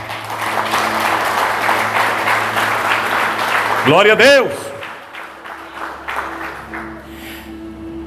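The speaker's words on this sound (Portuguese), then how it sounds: "Agora pode aplaudir Jesus." A church congregation claps during a sermon, steady applause under a preacher's loud voice, which swells into a sustained shout before the clapping thins and fades.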